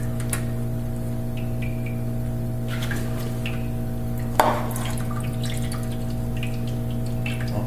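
Transmission fluid drips from the pan of a 1996 Chevy 1500: sparse, faint drops over a steady background hum, with one louder splat in the middle.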